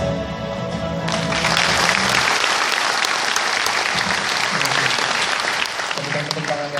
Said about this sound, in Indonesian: Berikan tepuk tangan yang meriah untuk Kang Dedi.